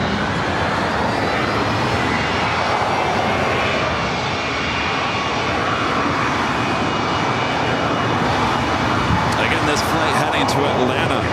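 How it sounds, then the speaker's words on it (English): A Boeing 757-300 jet takes off at LAX with a loud, sustained broadband engine roar that holds steady throughout, and faint higher tones come in near the end. "It's the first of two 757-300s that we will see take off here shortly."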